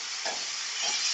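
Japanese puti fish frying with turmeric in a pan as it is stirred: a bright continuous sizzle with two quick stirring strokes, close and loud.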